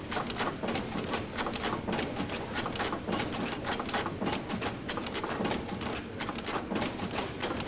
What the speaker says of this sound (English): That process involves several stages of automated component insertion.